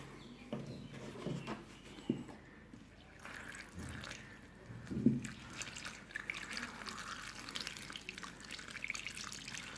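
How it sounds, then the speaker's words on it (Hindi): Water pouring and trickling into coco peat in uneven bursts, with soft splashes and drips, close by and fairly quiet, without any talking. "तो अभी हम और पानी भी डालते हैं इसमें।"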